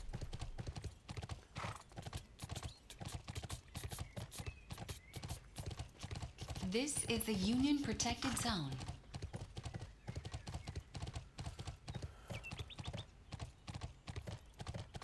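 Horse hooves clip-clopping in a quick, steady rhythm as a character rides in the Bless Online video game, with a neigh midway and a voice speaking over the hoofbeats.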